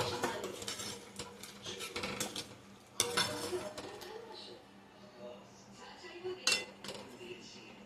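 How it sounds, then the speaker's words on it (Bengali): A spoon stirs jaggery into milk in a metal pot, with scraping, clinks and knocks against the sides coming in irregular bursts amid faint kitchen noise. "এর মধ্যে এবার গুড়টা দিয়ে দিলাম, এটাকে মিশিয়ে নিলাম"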